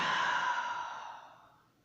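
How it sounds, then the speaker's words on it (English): A single long, deep exhale during a yoga stretch, airy and close, fading out gradually over about two seconds with no talking. "we're just going to take one breath here."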